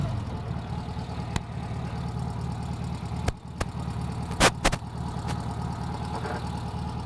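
A Zundapp motorcycle engine idles with an even low, throbbing run, broken by a few sharp clicks and knocks along the way, heard close and alone.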